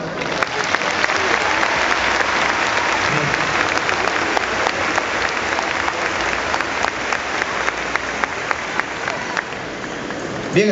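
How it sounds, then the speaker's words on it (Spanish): A congregation's applause at a religious gathering bursts into steady, dense clapping, with a few sharper individual claps standing out near the end, lasting around eleven seconds at a moderate level. "Un aplauso."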